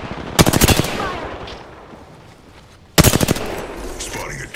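Rapid automatic gunfire in the video game Apex Legends, two loud close bursts of fast shots, each followed by a fading tail of game effects.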